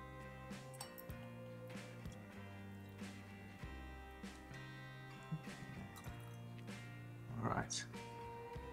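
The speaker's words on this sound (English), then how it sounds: "let's open this one up now and pour our very first dram of Glengoyne 12" Glengoyne 12 single malt whisky is poured from a freshly opened bottle into a glass: a short liquid splash and dribble near the end, set under steady background music.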